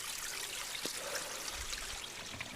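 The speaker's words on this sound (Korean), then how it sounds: "이렇게 개울이 흐르고" A mountain stream flows with a faint, steady trickling wash and small splashes, heard alone and fairly quiet.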